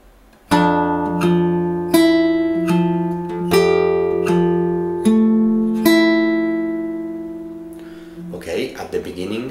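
Fingerstyle acoustic guitar plays measure 9 of a piece from Kung Fu Panda, a slow series of plucked notes and chords ringing close and clear, followed by a brief rustle at the end.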